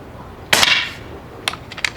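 A single loud, sharp crack from an Umarex Gauntlet 2 air rifle shot without a moderator, followed by a few quick mechanical clicks.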